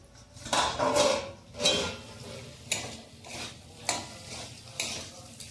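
A metal lid comes off a pot of chicken curry cooked with onion and tomato, making a series of close clanks and scraping knocks that recur every second or so, with no voices.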